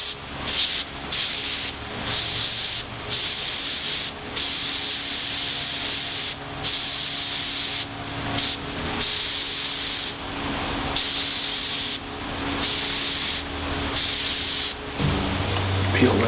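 An airbrush sprays green paint over stencils on a turned wooden piece in loud, steady hissing bursts, each lasting a second or so and separated by brief pauses, repeated throughout.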